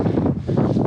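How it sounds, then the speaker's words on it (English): Cold wind gusts against the microphone high on a volcano, Mt. Iwate in Japan, during a winter hike, a brief, loud, rumbling buffet with no talking. "Now the wind is coming and I'm cold."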